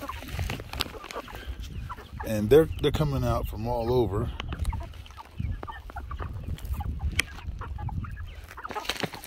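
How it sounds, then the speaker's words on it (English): Brown egg-laying hens cluck and call in a backyard flock, several loud squawking bursts in the middle, with someone talking over and between them. "So the brown ones are my egg-laying hens."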